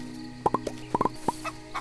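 A chicken in the farming video game Moonlight Peaks clucks in quick bursts of short, bright notes, close and clear with no talking.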